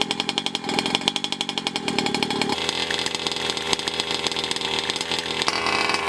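Giant gas-powered RC truck engine running through its break-in, a loud, steady two-stroke buzz that shifts to a denser, higher-revving drone partway through, close and alone.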